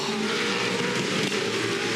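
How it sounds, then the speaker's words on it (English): Supercars race cars roar together in a dense, steady engine wail during a restart, with a brief scrape as one car rides over another and into the wall; loud and continuous, no talk. "Jason Bright over and up and into the wall."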